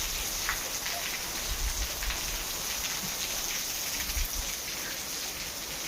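Heavy rain pours down in a village, a soft, steady hiss of drops on surfaces that stays even throughout, fairly faint and with no voices.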